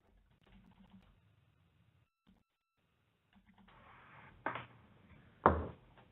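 Keys on a computer keyboard are pressed in a few scattered bursts, close by, with a louder flurry of clacks toward the end and near silence between.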